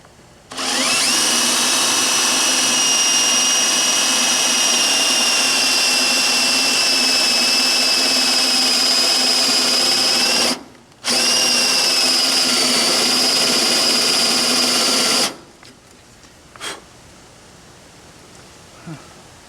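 A drill bit bores into wood during a Pit Boss 1100 Pro pellet grill rotisserie mod, a loud steady high-pitched whine held for about ten seconds, a brief stop, then a few seconds more before it cuts off, close and alone.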